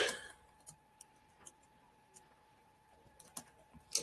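Keys of a computer keyboard being typed on in a quiet room, a handful of sparse, light clicks spaced irregularly over a few seconds, with no voices.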